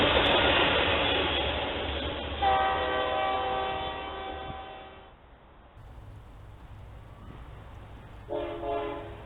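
A BNSF freight train rumbles past in Riverside, California, sounding a loud sustained horn that cuts off and returns in a brief blast near the end, with rolling rail noise underneath.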